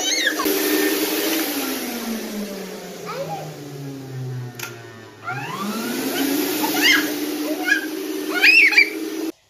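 A real electric vacuum cleaner sweeps a house, its steady motor drone with a pitch that dips and rises, running under a young child's chatter and bird-like squeals throughout.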